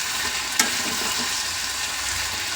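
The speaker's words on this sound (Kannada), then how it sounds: "ಈಗ ಇದನ್ನ ಸ್ವಲ್ಪ ಸಣ್ಣ ಉರಿ ಮಾಡಿಕೊಂಡು ಒಂದು ಸ್ವಲ್ಪ ಬೇಯಿಸ್ಕೊಳ್ಳೋಣ. ಎಣ್ಣೆಯಲ್ಲೇ ಸ್ವಲ್ಪ ಚೆನ್ನಾಗಿ ಬೇಯಿಸ್ಕೊಳ್ಳೋಣ" Upma ingredients fry gently in oil over a low flame, giving a steady, soft broadband sizzle with one brief clink of a utensil early on; no one speaks.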